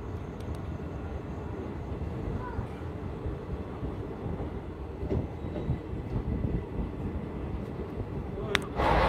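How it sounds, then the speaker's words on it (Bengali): Gour Malda Express pulling out of Pakur station in Jharkhand, a steady low rumble of wheels and carriages close by, broadly continuous, with a brief sharp clank near the end. "তো চলুন বন্ধুরা, ট্রেন আমাদের ছেড়ে গেল পাকুড় থেকে"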